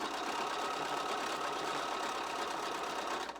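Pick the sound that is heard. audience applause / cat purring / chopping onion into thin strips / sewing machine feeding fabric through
sewing machine feeding fabric through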